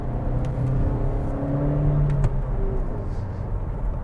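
Suzuki Vitara S with a 1.4 litre Boosterjet petrol engine pulling uphill in second gear, a steady low engine drone with rising revving tones heard from inside the cabin, continuous and moderately loud.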